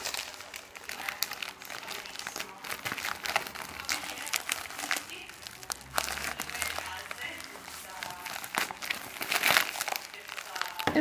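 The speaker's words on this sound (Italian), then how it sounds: "adesso apriamo questi due pacchi insieme" Plastic packaging crinkles and rustles continuously as two parcels are opened at home, with scattered sharper crunches and tears and a voice talking over it.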